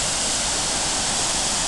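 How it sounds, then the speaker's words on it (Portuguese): A high waterfall with up to 400 metres of free fall roars as a dense, steady, broadband wash of water noise, loud and unbroken, with no voices. "Aqui está a área da cachoeira."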